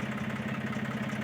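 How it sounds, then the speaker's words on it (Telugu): A tractor engine idles steadily at the edge of a rice field during paddy harvesting, giving a continuous, even mid-low throb with a regular pulsing beat, close and unbroken, with no voices. "ట్రాక్టర్ కూడా అయితే వచ్చేసింది ఫ్రెండ్స్."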